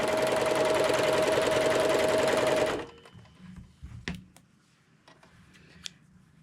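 A sewing machine stitches the ends of a fabric scrunchie in a fast, loud, continuous whirring run that stops abruptly partway through, followed by quiet handling clicks and light rustling of fabric.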